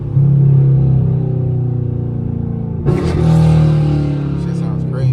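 A 2016 Camaro SS with a catless straight-pipe exhaust and a PLM axle-back drones loudly up close. Near the midpoint it gives a sharp rev blip as it downshifts, then settles back into a deep, rumbling roar.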